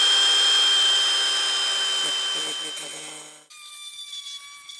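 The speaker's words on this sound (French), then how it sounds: "Et on y va à la meuleuse." An angle grinder cuts mosaic tiles with a steady, loud, high-pitched whine that drops in pitch and shifts as the cut ends, with no talk over it.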